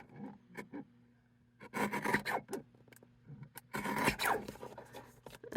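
A paper trimmer slices card stock for a paper craft project, with two rasping, zipper-like scrapes of the blade sliding along the paper, separated by quieter handling noises.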